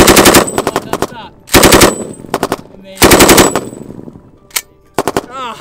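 Bursts of machine gun fire from an army training range, several loud rapid strings of rounds with short gaps between them, close and dominant, with brief quieter moments and a faint voice near the end.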